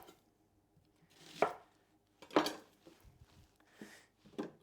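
A knife slices a yellow onion into coarse half-ring strips on a board, giving a few spaced, crisp cuts. The cuts are fairly quiet, with faint movement between them and no talking.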